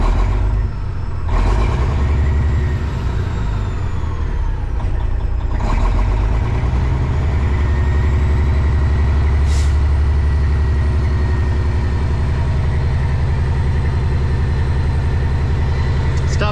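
A Kenworth cabover truck with a check engine light and a non-charging electrical fault idles with a deep, steady, close rumble. The idle runs unevenly, with a few sharp knocks and stumbles early on.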